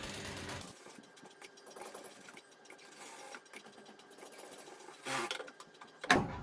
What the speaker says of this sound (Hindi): इसको हम यहाँ से सिलाई से बंद कर देंगे